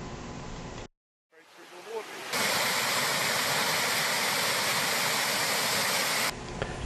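A loud, broadband rush of a waterfall near Kawakawa, New Zealand fills most of the clip, steady and close, after a brief silent gap and a quieter rumbling stretch.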